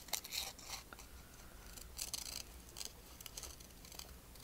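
Quick bursts of scissors snipping paper in short uneven clusters, close by, with a faint background hiss and no talking.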